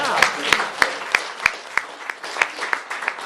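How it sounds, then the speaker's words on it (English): Applause at a talk or gathering, heard as about ten sharp, evenly spaced claps close by, more like one or a few people clapping in rhythm than a full crowd. "Let's clap for that."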